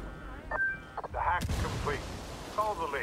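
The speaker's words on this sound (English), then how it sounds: "I'm using grenades now. I don't even care frags for you. Frag Here's a frag for you." A frag grenade explodes in the game Ghost Recon Wildlands, one loud, sharp blast in mid-clip, with voices talking before and after.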